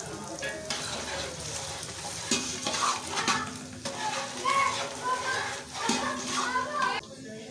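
Whole spices hit hot ghee in a pot for degi chicken korma, giving a steady, close sizzle with stirring, while voices and children talk in the background.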